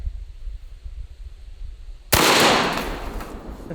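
A single Benelli M4 semi-auto shotgun shot firing a slug at a pineapple juice can outdoors: a sudden loud, close blast breaks a quiet stretch, then a long rumbling decay rings out with no talk.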